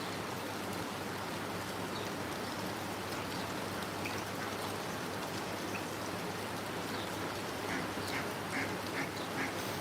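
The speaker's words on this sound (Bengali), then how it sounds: "এই দেখেন হাঁসগুলো কত সুন্দর করে গোসল করতেছে" Steady rain patters down while ducks bathing in the rain quack intermittently, with soft splashing blended into the constant wash of falling water.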